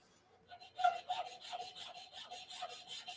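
Old, worn-out sandpaper rubbed by hand over a briar pipe, a quiet rhythmic scratchy rasp repeating in short even strokes, close up and alone.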